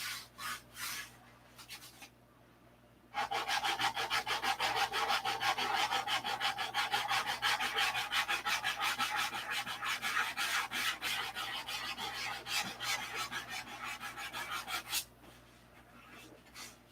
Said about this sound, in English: that was a hard spot in the sheeting, and I just sanded the paint off